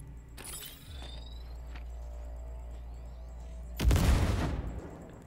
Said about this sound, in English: Oh, we can detonate his grenade.